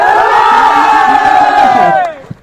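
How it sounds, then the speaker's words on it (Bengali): A crowd at a college annual sports day cheers and shouts loudly and together, a sustained roar of many voices close by that fades quickly near the end. "আর এদিকে উল্লাস দেখো"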